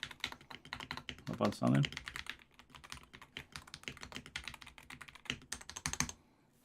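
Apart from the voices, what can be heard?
mechanical keyboard typing with Hall Effect switches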